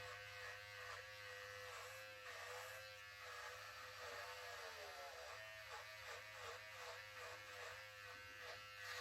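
An electric razor buzzes steadily while shaving a beard, a close, continuous hum whose pitch wavers as it passes over the stubble, with no voices.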